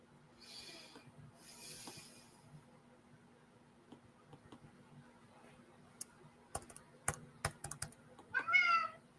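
A pet cat gives a short, clear meow near the end, after scattered keyboard typing and clicks in a quiet room with a steady low hum.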